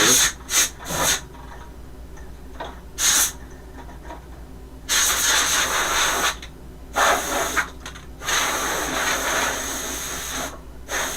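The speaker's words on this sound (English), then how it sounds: "So let's blow off the dust." Bursts of compressed air blow sanding dust off a wooden woodworking project, coming as several short hissing blasts with pauses between them, close and fairly loud, with a low steady hum underneath.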